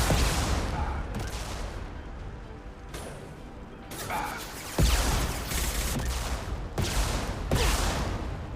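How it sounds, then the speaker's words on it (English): Gunfire in the Mass Effect Legendary Edition video game, with loud bursts and sharp shots in repeated volleys, heavy impacts and crashes between them, and brief voices among the combat. "Taking heavy fire."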